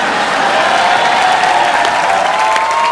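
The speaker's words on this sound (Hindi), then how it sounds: "आप सबकी जोरदार तालियों के बीच स्वागत करना चाहूंगा" Studio audience of a Hindi comedy talk show applauding loudly, a dense, sustained wash of clapping with a faint tonal hum running through it and no voices.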